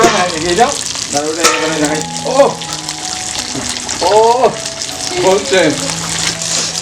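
Father-in-law cooking food in a pan at home, a steady frying sizzle running under a voice talking throughout.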